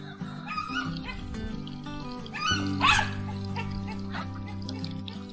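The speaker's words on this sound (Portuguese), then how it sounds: "Os cães estão doidos, latindo" Several dogs bark, yip and whimper excitedly at an opossum visiting the yard, a steady agitated chorus running the whole time over tonal background sounds.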